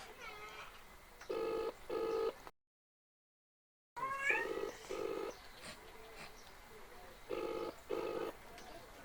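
Ringback tone of an outgoing phone call: paired electronic tone bursts repeat steadily, cut by a brief silent gap, clear and close.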